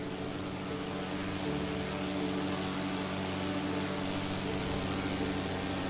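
A Tiger Moth biplane's engine in Microsoft Flight Simulator drones steadily, a constant loud propeller hum with no pauses and nobody talking over it.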